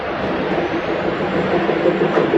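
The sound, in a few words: DEMU diesel electric multiple unit train arriving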